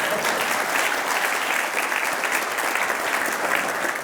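Audience clapping steadily at a panel discussion, a dense, even applause from a room of people sustained throughout without pause.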